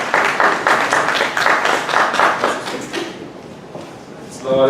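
A crowd of brothers and sisters applauds as a speaker is welcomed, with dense clapping that stays loud and steady for about three seconds, then dies away into quiet room sound.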